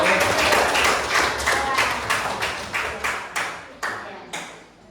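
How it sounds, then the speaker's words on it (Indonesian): A classroom group claps in unison during an Islamic studies lesson, a run of loud rhythmic claps at a steady beat, each clap sharp and close, slowing and thinning toward the end. "tepuk tangan dulu"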